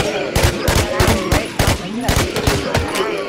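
Rapid bursts of automatic gunfire in the zombie survival shooter Infestation, a dozen or so sharp, loud close shots in uneven clusters with a faint voice underneath.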